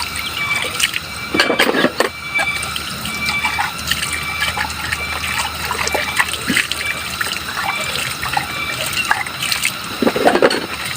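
Water runs steadily from a tap at an outdoor dish-washing spot, a continuous trickling splash with occasional louder clatters and bumps, close by and without talk.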